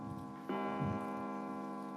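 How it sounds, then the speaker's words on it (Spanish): A single resonant clock chime strikes midnight, ringing out with a long humming sustain, fairly faint and alone. "Las 12 sonaron en el reloj del postigo."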